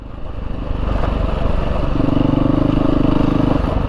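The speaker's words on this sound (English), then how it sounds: "This exhaust sounds really good for a stock exhaust." A 2022 Beta 430 RR-S dirt bike with its stock exhaust runs on an off-road trail, its engine rising into a loud, throaty, steady drone close by, with no talking.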